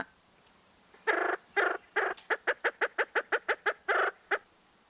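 A male spruce grouse calls from the ground in a winter forest: about a dozen sharp, clucking notes, first spaced and then quickening into a rapid, evenly pulsed run, loud and close against a quiet background.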